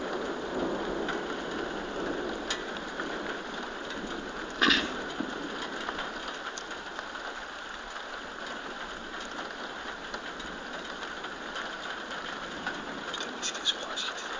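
Heavy thunderstorm rain pouring steadily in Moulins, France, a continuous dense hiss with a sharp nearby thunder crack partway through and faint rumbles beneath.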